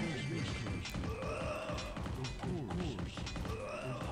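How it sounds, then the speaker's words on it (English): Punching sound effects in the Warcraft II video game land as repeated dull thuds and smacking hits, close and fairly loud, over a busy game soundscape. "I love the punching sound effect so much."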